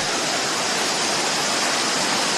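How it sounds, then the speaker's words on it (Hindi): A mountain waterfall in the Kamsyar valley, near an ancient Bhadrakali temple, gives a loud, continuous, hissing rush of falling water with no other sounds. "जल की कलरव ध्वनि, इस झरने की ध्वनि"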